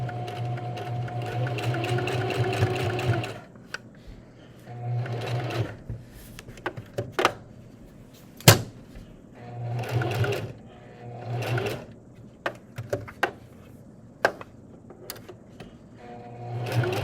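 A sewing machine stitches around a felt mask piece in several short bursts of rapid mechanical whirring, separated by pauses with small clicks and handling sounds, close and fairly quiet.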